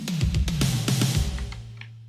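A city pop drum fill leading into the first pre-chorus rolls down across toms in quick punchy hits, ringing low tones under crisp cymbal-like transients, then settles into a sustained bass note as the mix fades.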